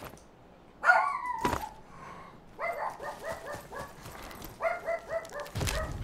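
Dog barking inside the shooter game Super People: several rapid bursts of barks in clustered series, moderately loud, separated by short gaps and mixed with a couple of sharp game thumps.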